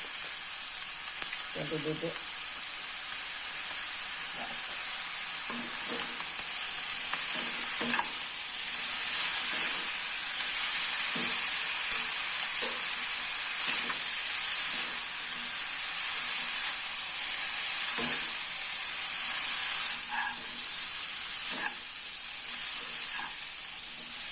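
Mi goreng noodles stir-frying in a pan with sweet soy sauce and a little stock powder, a continuous hissing sizzle broken by scattered scraping and clinking taps of a utensil stirring.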